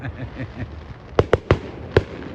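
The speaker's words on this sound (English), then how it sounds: "So 5 minutes later, the fireworks are still going." Outdoor fireworks display with four sharp, loud bangs bursting in quick irregular succession over a low rumbling background.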